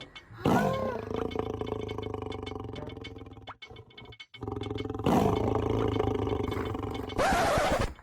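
A lion roars loudly twice: a long, rumbling roar opens the clip and a second powerful roar comes after a brief pause, followed by a short burst of harsh noise at the end.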